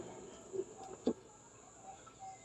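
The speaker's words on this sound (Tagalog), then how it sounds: "So, meron ding mga manok." Faint, scattered clucks from chickens nearby, a few short bursts over a steady hum of insects in the background.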